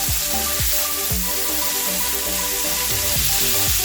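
Bacon-wrapped hot dogs fry in a pan, their rendering fat giving a loud, constant crackling sizzle throughout, with tonal background music underneath.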